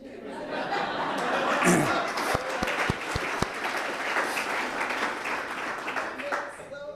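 A crowd at a mayoral State of the City address in Elmhurst claps steadily for several seconds, with some chuckles and scattered sharp claps mixed in, and voices murmuring underneath.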